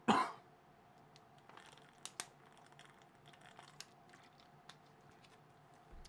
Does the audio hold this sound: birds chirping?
no